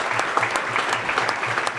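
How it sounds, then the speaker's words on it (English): A crowd of about 300 applauds at a campaign stop in a Story County brewery in Iowa, a steady, dense patter of many hands clapping throughout. "That line drew loud applause during his final stop Tuesday at a Story County brewery."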